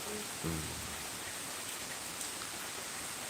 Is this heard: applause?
no